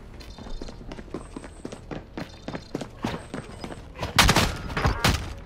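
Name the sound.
gunfire in video game Call of Duty Modern Warfare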